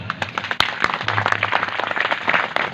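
A crowd claps and applauds steadily for a few seconds, a dense, continuous patter of hands with a few louder individual claps.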